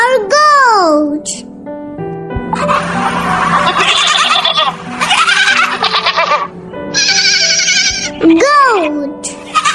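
Repeated goat bleats, loud and close, with wavering cries breaking in at the start and end and a busier stretch of overlapping bleats between.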